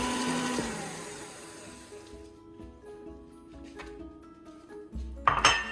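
Mascarpone cheese being beaten into whipped cream for a blueberry trifle pudding, a loud whirring beat for about two seconds that fades to quiet bowl noises, then a brief clink near the end.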